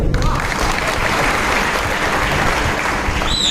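Loud, sustained applause from a crowd at a Shiv Sena office-bearers' meeting, with dense clapping running steadily through the whole stretch.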